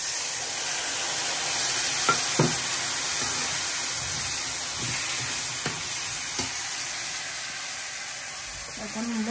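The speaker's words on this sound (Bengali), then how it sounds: "এখন মশলাটা ভালোভাবে একটু কষাই নেই।" Spice masala with chillies fries in a pan, giving a steady, even hiss of sizzling oil with a few faint clicks of stirring scattered throughout.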